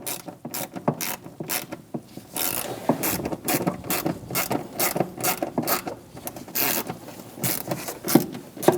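A ratchet tightens the bolt on the AC line clamp of a 2003-2025 Chevrolet Express 2500 4.8L V8, giving rapid, irregular bursts of close, crisp clicking with short pauses between strokes.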